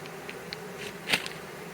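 Honey bees spread across the tops of hive frames give off a faint, steady buzzing hum, with a few brief louder passes of individual bees close by.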